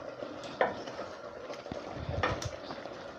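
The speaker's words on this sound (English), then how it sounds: "I was stirring occasionally just to make sure that every part of the meat cooks evenly." Browning beef stirred in a pot of oil during stewing, with soft scraping and clinks of the spoon against the pot over a faint sizzle, quiet and close.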